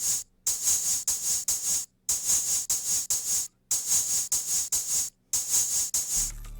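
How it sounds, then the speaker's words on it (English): A programmed hi-hat pattern in an FL Studio trap beat, built like an open hat followed by a second hit, repeats in crisp bright bursts separated by short gaps, loud and unaccompanied, with a low tone entering at the very end. "So it's almost like an open hat and then a second hit."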